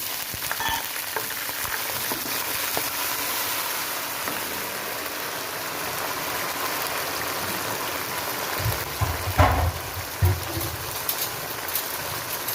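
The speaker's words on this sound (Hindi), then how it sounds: "अब मैं इसमें थोड़ा सा पानी का छिंटा लगाऊंगी।" Browned onions sizzle in a cooking pot as a splash of water is added, a dense continuous frying hiss with brief louder spits and bubbling bursts near the end, close and without talk.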